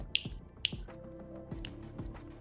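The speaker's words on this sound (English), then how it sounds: "make me snap my fingers in a Z formation" Three sharp finger snaps, spaced about half a second to a second apart, close and crisp over a low background hum.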